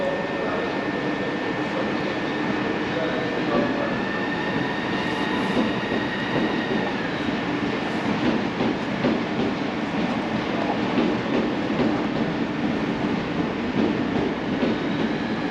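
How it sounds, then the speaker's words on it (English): A Southeastern Javelin train arriving at Margate station from Faversham in December makes a steady, loud rumble and whine that holds throughout without any talk. "you got a javelin coming in from Faversham"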